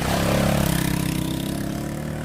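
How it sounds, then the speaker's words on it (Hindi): Motorcycle engine rising in speed as the rider accelerates past, a steady mid-pitched drone that stays loud and close throughout, with no voices. "उसने बाइक न रोकने का फैसला किया और बाइक की स्पीड बढ़ा दी"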